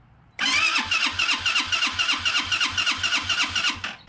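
A Bashan Brozz 250 dual sport motorcycle engine starts with a short crank and catches at once, settling into a loud, close, rhythmic single-cylinder putter that pulses evenly without pause.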